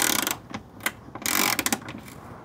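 Socket wrench with an 8 mm socket ratcheting as it loosens a bolt on a Ford Bronco, a close, quick burst of dry clicking followed by a few more separate ticks, with no talking.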